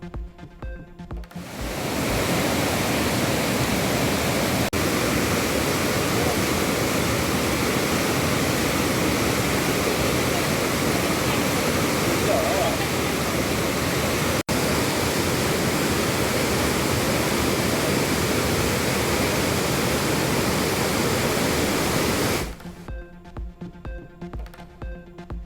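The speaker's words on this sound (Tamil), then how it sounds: "திருப்பரப்பு அருவியில் வெள்ளப்பெருக்கு ஏற்பட்டதால்" Thirparappu waterfall in flood roars as a loud, steady broadband rush of heavy cascading water, continuous for about twenty seconds with no voices.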